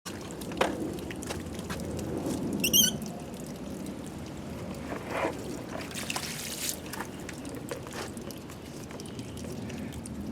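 A little water poured over a dirty gear to rinse it, a soft, faint trickle and patter with a few brief splashes against low background noise.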